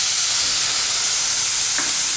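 Milk poured into a pan of semolina and fresh cream for suji modak, giving a loud continuous sizzling hiss with a faint splashing pour, steady throughout.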